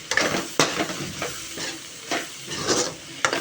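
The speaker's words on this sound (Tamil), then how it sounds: "இதில் கொஞ்சம் மிளகு சீரகம் போட்டு நல்லா கிண்டிக்கலாம்." Vegetables stir-fried with pepper and cumin for fried rice, a spatula scraping and tossing in a hot pan in repeated strokes over a steady sizzle, close and fairly loud.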